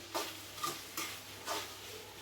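Okra fry cooks quietly in a pan as chilli powder goes in, with soft rhythmic scraping strokes of a spatula stirring about four times over a low background sizzle.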